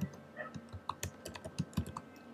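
Python code is typed on a computer keyboard in a quick, uneven run of close, crisp key clicks with short pauses, alone and without talk.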